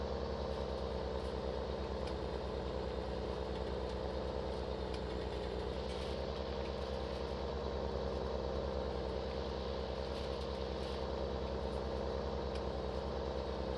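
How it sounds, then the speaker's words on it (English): A tractor engine idles steadily in Farming Simulator 19, a constant low mechanical hum with a faint rumble underneath, even and unbroken, with no voices. "I think some tractors are quiet and some are really loud"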